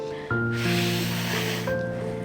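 A voice imitates water pouring and splashing with a drawn-out hissing "fff" that lasts about a second, set against a steady tonal background.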